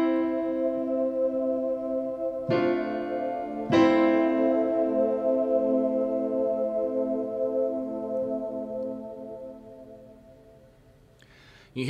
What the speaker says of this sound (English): And then finally, I've got another pad called Greenhouse JD pad. With the piano, it sounds like this.